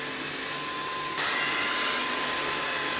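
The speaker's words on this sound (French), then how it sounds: "il ne va que passer l'aspirateur dans cette zone-là" A Samsung Navibot robot vacuum cleaner runs with a steady motor whine and airy hiss, stepping up slightly louder about a second in, with no voices.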